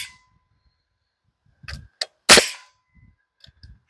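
A nail gun fires nails into a rough-sawn lumber joist while building a sawmill shed, giving a few sharp, loud cracks, the strongest a single hard bang, with a quiet pause before and small knocks after.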